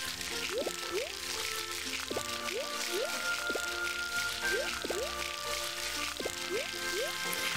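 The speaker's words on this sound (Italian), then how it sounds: "Cioè, sentite che cos'è il rumore dell'acqua." Water sound effects from the Harvest Moon video game: repeated short bloopy drip and splash tones with rising pitch sweeps over a steady hissy bed of running water, moderately quiet.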